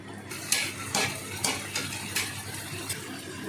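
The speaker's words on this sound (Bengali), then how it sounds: "এটা চিকেনের জন্য তেলটা ভালো করে মিশিয়ে নেওয়া হচ্ছে" A utensil scrapes and clinks in a pot while oil and spices are mixed for chicken, with irregular metallic taps and stirring strokes over a steady background hiss, close by and without speech.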